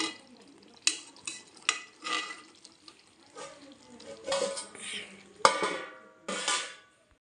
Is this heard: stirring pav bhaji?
yes